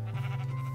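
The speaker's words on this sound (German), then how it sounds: "Das ist mit Sicherheit ein Schaf." Minecraft sheep bleating, a single drawn-out wavering 'baa' at close range, heard alone for under a second.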